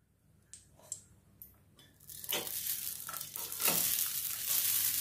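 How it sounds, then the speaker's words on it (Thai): Vegetarian rice noodles being stir-fried in a pan, a few soft clicks and stirring sounds at first, then a steady loud sizzle that builds and holds with occasional scraping. "ผัดหมดเลยครึ่งกิโลนะคะ"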